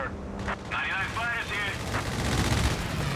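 Strafing-run gunfire from an aircraft in Company of Heroes 3 during a 2v2 match, heard as a dense burst of rapid shots over continuous battle noise, with someone talking over it.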